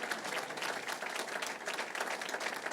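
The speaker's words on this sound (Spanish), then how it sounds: "Denle un aplauso al Señor" Dense applause from a church congregation during a pastors' gathering, steady and moderately distant, a continuous wash of many hands clapping with no voices standing out.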